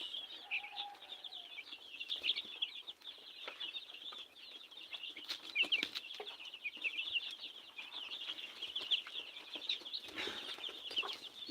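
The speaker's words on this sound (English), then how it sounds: "Our chickens are growing, and yeah, you can see how they are looking." Young two-week-old farm chickens call steadily in a flock, a continuous chorus of high chirps and clucks with no talk over it.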